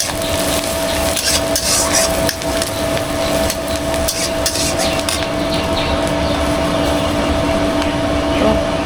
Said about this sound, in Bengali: এটা একটু আমি হালকা করে ভেজে তারপরে এর ভিতরে ভাদলগুলো দিয়ে দেবো